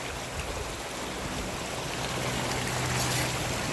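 A creek at a gold-digging spot flows with a steady, close rushing and trickling wash that swells slightly toward the end, with no talking.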